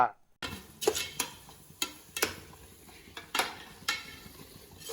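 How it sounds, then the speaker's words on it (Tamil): Tomatoes sauté in a pot for a seeraga samba biryani as a spoon scrapes and knocks against the pot in irregular strokes over a faint, steady sizzle. "தக்காளி வதங்கிட்டு இருக்கு"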